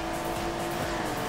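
A rally car sliding through a drift in the racing game Dirt Showdown, its engine holding a steady loud drone with faint tire noise throughout the short moment.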